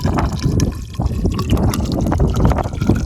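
Water pours and gurgles as it tops off an underground plumbing test pipe at a custom home build, a loud, close, continuous splashing trickle with bubbling throughout.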